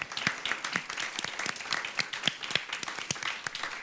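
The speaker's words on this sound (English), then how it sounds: "I think they deserve a very, very big round of applause" An audience at a data and equity event applauds the organizing team with a brisk, moderately quiet burst of clapping, individual claps standing out through the whole stretch.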